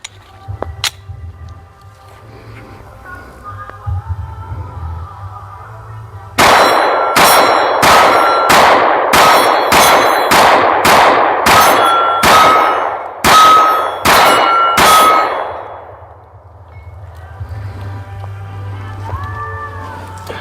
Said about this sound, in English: we just got done shooting with this